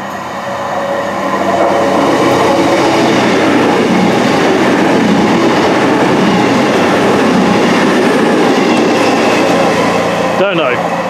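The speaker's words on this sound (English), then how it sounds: "Here comes an empty stock movement from Virgin." An empty Virgin stock train rumbles past close by in one continuous, loud roar, with wheel noise and a brief squeal near the end.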